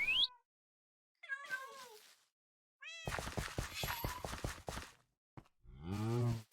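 Minecraft cats meow several times in short, separate calls with a lower, pulsing stretch in the middle and a deeper drawn-out cry at the end, close and clear with no talking.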